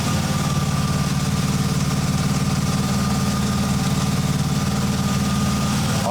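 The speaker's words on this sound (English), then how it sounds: "you can hear the exhaust" An axle-back exhaust on a manual-swapped BMW E36 idles steadily at close range, a low, even burble with a faint hum on top and no voices.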